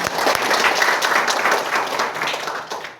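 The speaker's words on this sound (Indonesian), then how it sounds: "Boleh tepuk tangan untuk Brownies di sini." Crowd applause for Brownies volunteers at a book launch, dense clapping that stays loud for the whole stretch before tapering slightly at the end.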